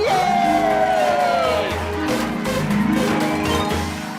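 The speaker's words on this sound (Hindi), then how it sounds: "तो जोरदार तालियां बजाकर इस टीम का हौसला बढ़ाइए" A crowd at a Dahi Handi pot-breaking event cheers and whoops loudly for a team, a continuous roar of raised voices with shouts rising above it throughout.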